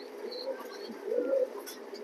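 Racing pigeons of show and breeding stock coo softly in a loft, a low steady murmur of calls that sits close and moderately quiet.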